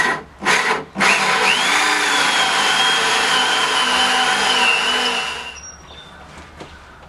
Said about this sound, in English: With the hole saw, drill halfway through, flip it over, and then drill the other side